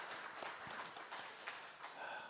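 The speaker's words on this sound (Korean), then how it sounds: "하나님께 영광의 박수 올려드립니다." A church congregation claps steadily during a Sunday service, a dense patter of many hands at moderate volume throughout.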